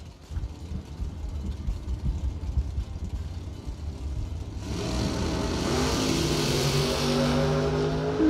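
Max Brewer's bracket drag racing car launches hard down the strip at a Christmas event, a distant rumble of idling engines building to a loud, sustained roaring pull as the car accelerates away.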